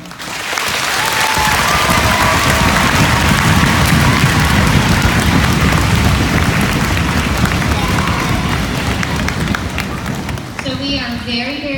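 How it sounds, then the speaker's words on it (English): A school audience of children and staff gives a big, sustained round of applause for a retiring teacher after 32 years of teaching, loud dense clapping filling the room from start to end. "I think that deserves a really big round of applause."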